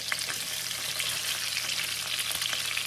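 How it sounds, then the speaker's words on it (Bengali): Pangas fish frying in a pan of hot oil, giving a steady, dense sizzle that stays close and loud throughout with faint crackles and no talking. "এই যে মাছটা ভেজে তুলে ফেললাম।"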